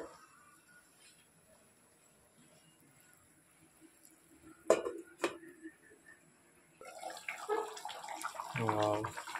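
Korameenu fish curry boils in a covered pot on a high flame, giving faint clicks and then a soft, steady rush of bubbling near the end.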